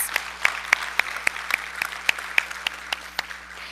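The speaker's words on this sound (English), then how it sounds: "Let's give him a big round of applause." Clapping at a school board meeting in a steady, evenly spaced rhythm, one crisp clap after another, over a faint constant low hum.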